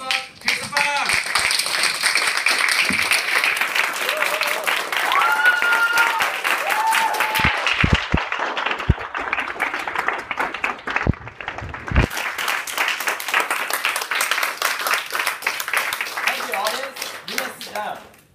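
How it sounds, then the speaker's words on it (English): An audience at a speech club meeting breaks into warm applause, dense continuous clapping from a crowd that swells loudly and keeps going for many seconds, briefly dipping midway, with a voice speaking over it early on. "So let us give our warm applause and also stand up"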